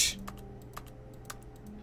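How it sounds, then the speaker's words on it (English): Keyboard keys click in the video game The Stanley Parable, several distinct taps spaced about half a second apart over a low steady office hum. "Basic keyboard sound every time I press click."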